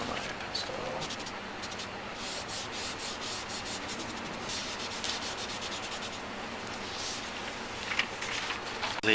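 Pastel is rubbed in over marker on paper with a soft, continuous scratchy friction, quiet and close. A voice speaks faintly underneath.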